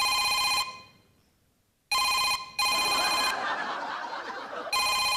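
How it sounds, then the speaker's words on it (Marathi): A telephone rings in repeated electronic bursts during a comedy sketch, stopping briefly in between while a noisier stretch of faint background sound fills the gap. "डान्स नाही, फोन आलाय."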